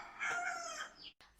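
A hen lets out a single drawn-out cluck that rises into a crowing-like call, fairly faint and heard alone before a brief cut.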